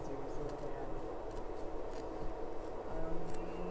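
Duckbill scissors snip through appliqué fabric laid on a towel, giving a steady, close rustling crunch of blades and cloth with no talk over it.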